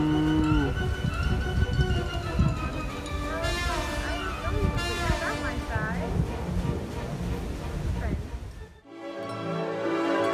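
A cow moos repeatedly at close range, long drawn-out lowing calls, loud and clear, ending in a brief pause.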